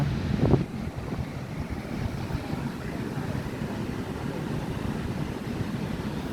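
Wind blows steadily across the seashore at Gokarna, a constant low rushing roar buffeting the microphone, with a brief louder gust near the start.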